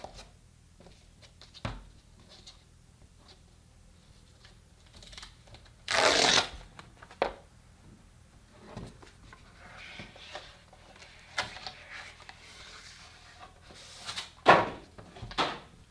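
Packaging for a Samsung Galaxy Tab S6 keyboard cover is handled during unboxing: quiet rustling, sliding and tapping, with a sharp burst of plastic or cardboard crackle near the middle and another near the end.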